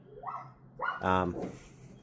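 A German Shepherd barks in a few quick bursts, close and fairly loud, with a short yelp between them and a brief strained whine at the end.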